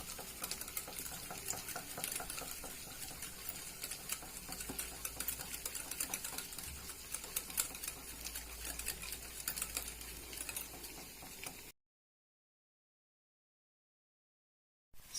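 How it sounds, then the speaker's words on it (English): Curd being whisked with sugar for sabudana vada: a fast, steady rhythmic clicking and swishing, fairly faint and close, running unbroken for about twelve seconds before stopping into silence. "I'm going to whisk it"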